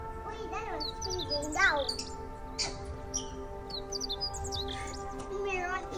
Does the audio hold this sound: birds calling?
yes